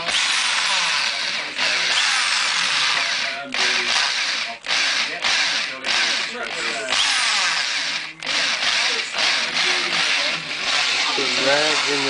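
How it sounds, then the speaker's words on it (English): A power drill bores a hole into a Toyota front differential housing for an air locker line, whining loudly and continuously with brief pauses, and people talk under the noise. "now we're going to drill the hole for the airline"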